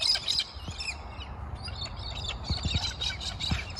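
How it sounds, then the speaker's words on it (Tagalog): Birds chirp and tweet over a steady outdoor hum in a green park, several high calls overlapping, some nearby and some farther off, with no voices. "Naglalaro ang mga ibon dito sa ano? Sa park."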